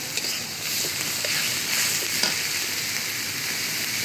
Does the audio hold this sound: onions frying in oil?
yes